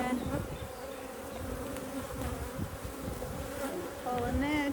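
Honey bees at an open hive during an inspection produce a dense, continuous buzzing close to the listener, with individual insects whining past.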